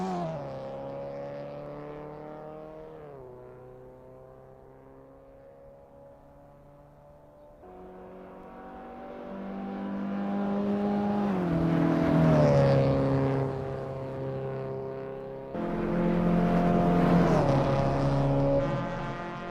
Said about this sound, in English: Sunrider is getting to grips with the Volkswagen Golf MK2 GTI in this practice session